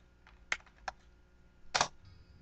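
Keys clack in a few sparse bursts on a computer keyboard as a reboot command is entered for a Wi-Fi Pineapple, with a louder cluster near the end, close and quiet with no talk.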